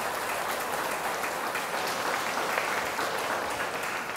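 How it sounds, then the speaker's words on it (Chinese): An audience at a Buddhist sutra lecture gives sustained, even applause, a dense wash of clapping that continues throughout. "也热烈的掌声谢谢在座的每一位，"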